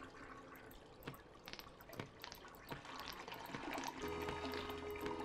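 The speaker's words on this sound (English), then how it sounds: "Can I flush? I can flush." A toilet flushes in the video game Unpacking: a steady, moderately quiet rush of water with scattered drips and pouring, swelling fuller toward the end.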